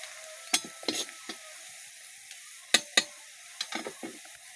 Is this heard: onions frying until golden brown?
yes